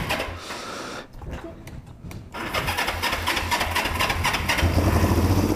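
A Honda CR250 dirt bike kicks over after a few tries and catches, its two-stroke engine settling into a loud, steady idle with a rising rattle, close by, with brief talk around it.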